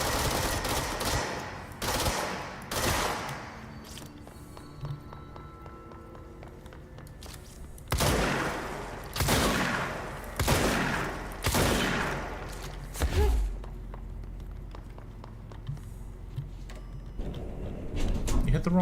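Bursts of automatic gunfire ring out in the Control video game, loud volleys spaced apart and separated by quieter stretches, with voices talking between and around the shots.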